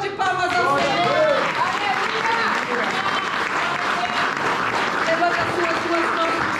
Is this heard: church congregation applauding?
yes